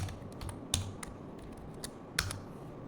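Scattered keystrokes on a computer keyboard while text is entered in Microsoft Word, quiet clicks with a couple of sharper taps against a soft background hiss.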